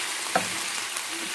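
Chicken gizzards fry in a pan with a dense, even sizzle, broken by one brief clack of a utensil early on, close and steady throughout.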